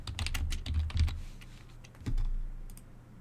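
Quick keystrokes clatter on a computer keyboard in a burst of close, crisp taps, then a pause and a few more presses, with a low hum underneath and no talking.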